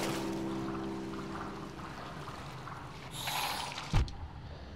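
Game-audio water splashing while a character moves through water in the Hollow Knight video game, a steady wash of liquid noise with a brighter splash burst near the end.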